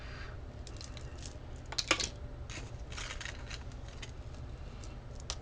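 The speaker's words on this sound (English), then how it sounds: "So let's take the scissors to it." Scissors cutting a metal chain bracelet make faint metallic snips and light clinks, with one sharper cutting click in the middle, all set against a steady low hum.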